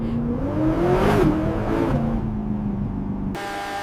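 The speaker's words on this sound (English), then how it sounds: "The Yamaha-tuned V10 responds with zero hesitation." A Lexus Yamaha-tuned V10 revs loudly and close, its pitch rising to a peak and easing back over a few seconds, ending in a higher steady tone.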